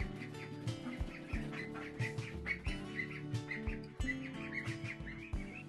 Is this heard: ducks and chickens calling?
yes